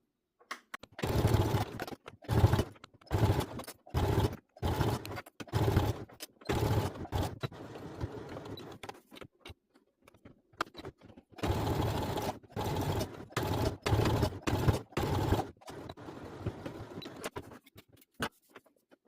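Brother CS7000X sewing machine stitching keyfob wristlets in repeated short bursts, with brief pauses between runs and a longer stretch of steady stitching later, fairly quiet and alone.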